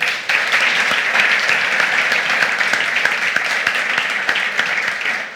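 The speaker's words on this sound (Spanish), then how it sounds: "Otro aplauso también." Applause fills a festival hall honouring Basque football pioneers, a thick, even roar of many hands clapping together that holds steady throughout and eases slightly at the close.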